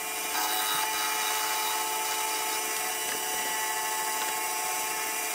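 A skew chisel cutting a wooden pot spinning on a lathe, a continuous loud, bright shearing hiss with a steady whine of the turning lathe, unbroken from start to finish with no talk.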